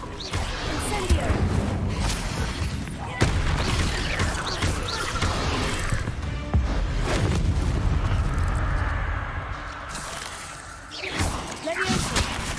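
Spell effects from Hogwarts Legacy as an Incendio fire spell is cast, giving loud booming, crackling bursts and crashes in a dense, continuous barrage with shouted spell names over the top.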